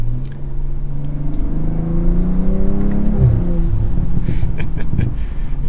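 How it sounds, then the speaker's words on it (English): BMW M340 sport sedan engine accelerating in sport manual mode with a ZF transmission, a loud, close rising rev that climbs steadily, with a quick shift and renewed pull near the end, and no talking. "Very smooth power delivery from the engine,"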